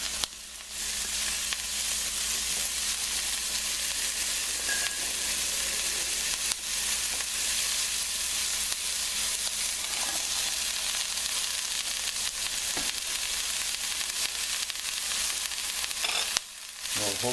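Chorizo and vegetables sauté in olive oil, giving a steady, continuous sizzle and frying hiss close up. Occasional stirring scrapes come through, and no one speaks.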